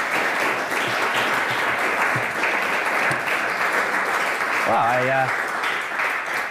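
Sustained applause from an art auction audience right after a sale, steady and loud throughout, with a voice briefly speaking near the end.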